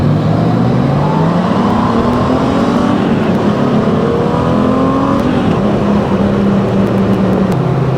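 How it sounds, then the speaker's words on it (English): A 2026 Honda Goldwing motorcycle engine accelerating, a loud continuous drone rising steadily in pitch with wind rush over it, no voices. "Has a completely different engine drone sound."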